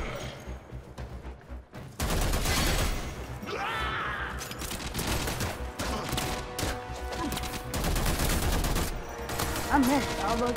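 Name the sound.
gunshots in the video game Warframe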